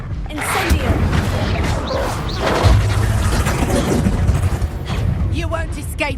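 Incendio fire spell cast in combat in the video game Hogwarts Legacy: a loud whooshing burst and crackling impacts amid battle clatter and booms, with voices talking over it.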